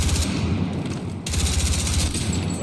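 Sustained automatic gunfire from a weapon in Battlefield 6, loud and close, firing in a steady rapid burst with a brief break midway before the shots resume.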